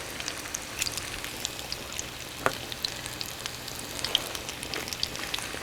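Conch fritters frying in plain canola oil, a steady soft crackle and hiss with scattered sharper pops, one louder pop midway, close and continuous with no talk.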